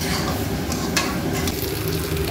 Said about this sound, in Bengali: নাড়তে হবে, ভালো করে ভেজে নিয়ে গরম জল দিয়ে দেবো।